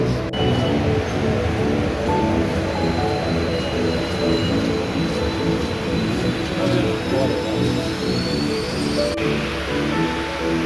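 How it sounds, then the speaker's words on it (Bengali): A metro train pulls into a station with a loud, sustained rumble and rolling clatter of wheels, thin squeals riding over the low roar for the whole stretch. "ঠিক তখনই মেট্রো চলে এলো"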